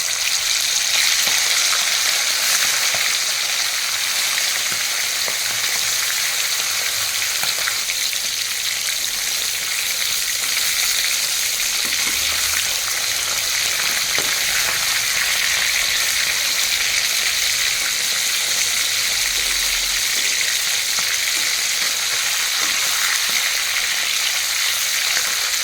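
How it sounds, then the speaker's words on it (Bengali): Marinated chicken pieces frying in hot oil at home, a loud, continuous close sizzle and crackle holding steady throughout with no voices. "এখন চিকেনগুলো ভেজে নেব।"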